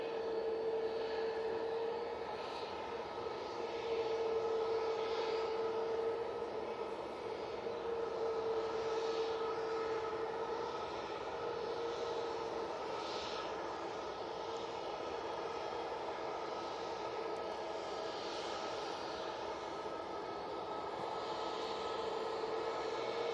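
An Aegean Airlines Airbus A320 in the new livery comes in to land, a steady, distant engine roar with a faint whine holding throughout, fairly quiet and unbroken, with no voices.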